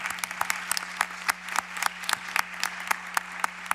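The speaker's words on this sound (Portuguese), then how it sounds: "com uma salva de palmas." A small audience applauds a deputy at a book launch on civil code reform: scattered, distinct hand claps in an uneven rhythm, fairly faint and sparse, with a low steady hum underneath.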